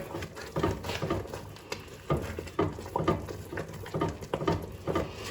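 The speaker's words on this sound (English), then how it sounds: "So, stirring, stirring, don't stop. We're there, 214, still stirring." A spoon stirs a hot sugar mixture cooking in a pot at around 214 degrees, giving a steady run of close scraping, swishing and bubbling sounds with faint sizzling underneath, no voices.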